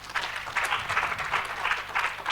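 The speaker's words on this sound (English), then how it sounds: "Let's give a round of applause for Brian." A summit audience breaks into steady, dense applause, a continuous wash of many hands clapping at moderate volume for a couple of seconds with no voices on top.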